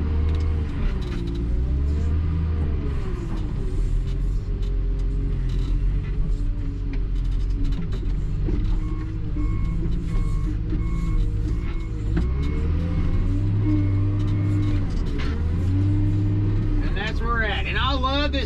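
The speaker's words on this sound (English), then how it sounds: "I love this wheel loader." A John Deere 624K wheel loader sorting logs runs with a loud, steady diesel rumble that swells and eases as the engine revs, with a voice talking over it throughout.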